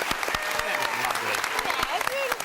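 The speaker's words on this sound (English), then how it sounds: "Can we have a round of applause for the Mars and their stars, please?" Studio audience applause on a Mother's Day music quiz show, a lively burst of clapping with a few louder claps, heard alongside some cheering and voices in the room.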